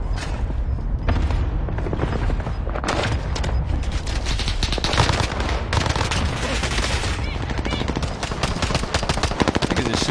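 Dense, nonstop gunfire in a shooter video game: rapid automatic bursts and overlapping shots with booming impacts fill the whole stretch at steady loud level, with no pauses.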